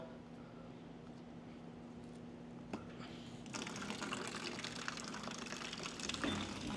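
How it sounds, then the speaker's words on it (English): Water drains from a plastic tote used as a makeshift sink through an opened valve, a soft hissing trickle that grows into a louder, steady rushing gurgle partway through. "we're gonna let it drain out"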